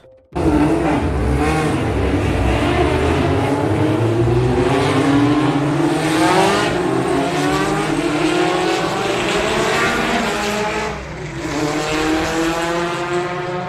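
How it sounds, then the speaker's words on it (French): Loud historic Formula 1 race car engines roar continuously at the Paul Ricard circuit, with rising and falling pitch as cars accelerate and pass, a dense layered drone throughout. "Vraiment le bruit des moteurs aujourd'hui, vous n'êtes pas prêts quoi."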